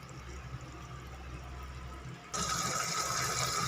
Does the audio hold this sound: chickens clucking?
no